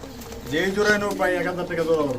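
Pigeons, racers and fancy birds at a market stall, coo loudly and close in overlapping throaty phrases, mixed with a nearby voice.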